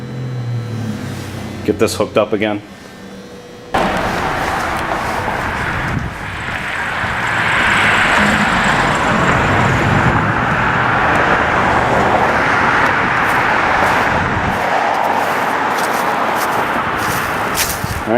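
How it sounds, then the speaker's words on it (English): A Ford Fox Body car starts and is driven out of a garage during winter preparation: after brief talk and clatter, a steady engine rumble sets in and holds loud and close, with faint speech at the start. "So I'm gonna pull the car out,"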